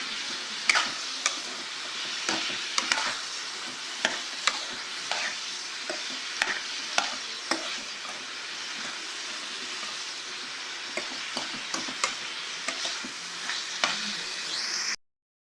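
Brinjal (eggplant) sautés in a pan with salt, chilli powder and turmeric, giving a steady sizzle broken by regular scraping stir strokes, close and alone before the sound cuts off abruptly.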